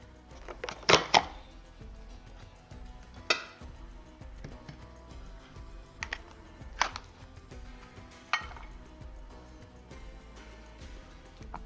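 Several sharp, isolated chopping thunks spaced a few seconds apart as a vegetable chopper slices through a potato, with quiet pauses between.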